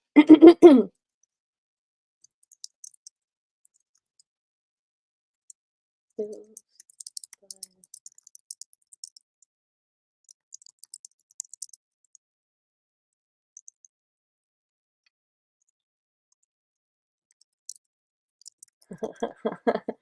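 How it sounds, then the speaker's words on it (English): Sparse, light clicks and taps from a computer keyboard fill a mostly silent stretch while a poll is set up, with someone speaking briefly at the start and again at the end. "I'm just typing creating the poll really quick."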